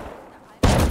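Gunfire in the survival video game Rust: a sudden loud burst of rapid shots erupts partway through and stays dense and close to the end, after a quieter stretch.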